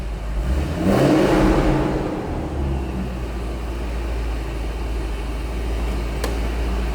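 A supercharged 2008 Chevrolet Corvette Z06-style V8 revs up with a rising roar around the start, then settles into a steady, rumbling idle with a constant low drone.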